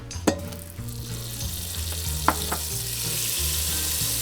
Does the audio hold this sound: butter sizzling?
yes